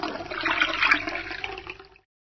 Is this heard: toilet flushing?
yes